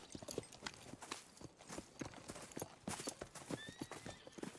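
Horse hooves clip-clop steadily in Red Dead Redemption 2, with a neigh rising over the busy trotting rhythm and faint voices mixed in beneath.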